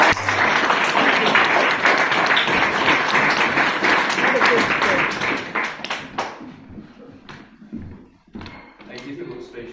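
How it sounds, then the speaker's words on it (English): Audience applause at an exhibition opening, loud dense clapping from a room of people lasting about six seconds before thinning to a few scattered claps, with voices and shuffling afterward. "please give Ian a huge round of applause"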